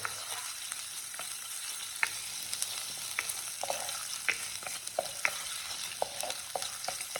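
Masala paste with a spoon of tamarind paste frying in a clay pot, crackling in a steady broadband sizzle broken by irregular sharp taps of a spoon stirring against the pot, close and alone with no talk.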